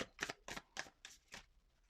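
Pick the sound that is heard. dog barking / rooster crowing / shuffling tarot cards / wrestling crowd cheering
shuffling tarot cards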